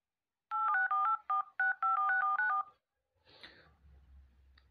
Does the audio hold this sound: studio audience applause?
no